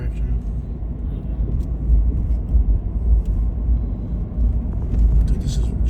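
A truck on a rough, littered street in Prichard, Alabama pulls away with a low, steady engine rumble close by, while someone talks over it.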